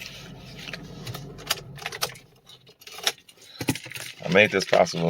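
A bunch of Toyota car keys jingles and clinks in short bursts, close and loud, while someone talks over and between the metallic rattles.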